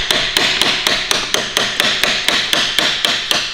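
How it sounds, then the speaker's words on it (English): A hammer strikes a car's starter motor in a steady, rapid series of about a dozen sharp metallic hits, loud and close, with no talking. "Hit it with a hammer."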